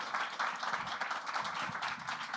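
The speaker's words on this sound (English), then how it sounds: "Give a round of applause, Natasha." Audience at a digital conference keynote claps in a continuous, moderately loud burst, a dense rattle of many hands with faint background murmur.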